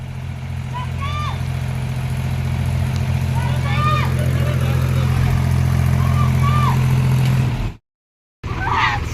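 A Mahindra 265 tractor's engine runs steadily and close by, a loud low drone that holds throughout while voices talk over it and birds chirp faintly in the background. A brief dropout near the end is followed by more noise.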